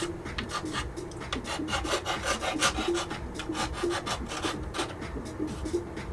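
Rapid rhythmic rubbing scrapes away the chrome on the bumper of a 1/20 AMT Toyota 4x4 pickup model, a close, steady rasping back-and-forth with no talk.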